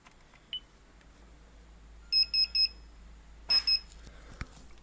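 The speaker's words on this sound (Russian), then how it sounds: "Слышим звуковые сигналы." Security system of a Toyota Land Cruiser 300 emitting a quick run of three high electronic beeps, then a pair more, faint and close in a quiet setting with a low hum underneath.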